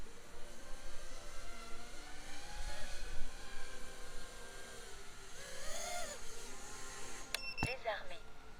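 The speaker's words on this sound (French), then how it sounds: "J'entends un drone voler à côté de moi." A whining FPV drone motor buzzes nearby, its pitch rising and falling as it passes, over a background hum with faint talk.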